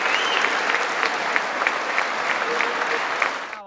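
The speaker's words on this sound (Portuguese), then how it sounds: "Ele pediu aos presentes que aplaudissem a diplomata." Sustained applause from a large audience in the US Congress greeting the Ukrainian ambassador, a dense, steady roar of many hands clapping throughout with no break.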